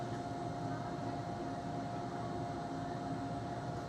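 Interior of a Disneyland monorail during the Christmas season, a steady low rumbling ride hum with a faint whine, constant and fairly quiet from start to end.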